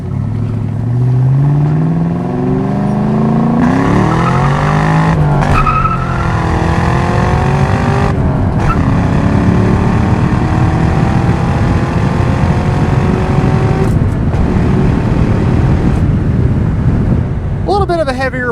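A 2003 Ford Mustang Mach 1 with a 5-speed manual pulls hard under acceleration, its engine note rising loud and steady through the gears with brief dips at each shift, heard from inside the car.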